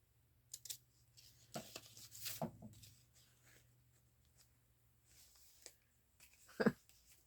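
Paper corners being trimmed with scissors for a junk journal, heard as a few faint, separate snips and crisp cuts spread over several quiet seconds, with one sharper snip near the end.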